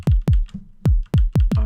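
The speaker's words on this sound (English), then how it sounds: "And first I'm gonna make a kick drum." A synthesized kick drum hits six times in an uneven pattern, each strike a loud, punchy low thump that decays quickly, with no talk.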